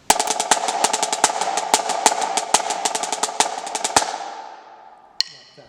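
A marching snare drum plays alternating 5-stroke rolls, right hand first then left, in a bright continuous pattern of rapid strokes and accents. The roll ends with a final hit and ringing decay, then a brief sharp tap.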